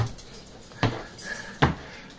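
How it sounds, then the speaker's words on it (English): Dog food dishes are handled with two sharp clattering knocks about a second apart, nearby and fairly loud against a quiet room. "the doggies' dishes are back here"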